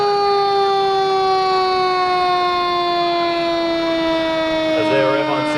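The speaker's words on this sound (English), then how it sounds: "We've got engines responding from all across the city." A fire engine siren, loud and steady, wails with a slowly falling pitch close by as engines respond to a structure fire, with a brief rumble of traffic near the end.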